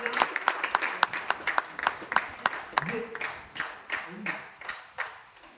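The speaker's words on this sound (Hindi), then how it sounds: "एक बार जोरदार तालियां नेक्स्ट प्रोग्राम के लिए" Audience applause at a crypto and investment seminar, scattered claps from a modest crowd in a sparse, uneven rhythm. Voices can be heard talking over the clapping.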